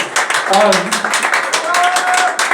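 Audience at a live comedy show in Craft bar, Barcelona, applauding and cheering as the host is introduced; a steady wash of clapping with whoops and shouts mixed in, fairly close and loud throughout.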